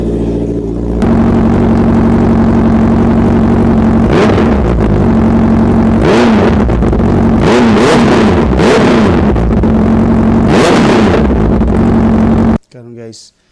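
A Honda CB650R motorcycle engine idles steadily up close, broken by several sharp throttle blips that surge and fall back, before the sound cuts off abruptly near the end.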